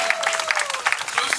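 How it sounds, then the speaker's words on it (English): Brief burst of audience applause at an outdoor community kickoff event for National Night Out in Buffalo, with many hands clapping steadily at moderate distance. "Let's give him a great big round of applause."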